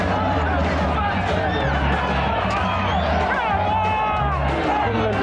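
A dense crowd of England football fans roars steadily after a goal, with whoops and shouts rising over a constant, loud wall of cheering.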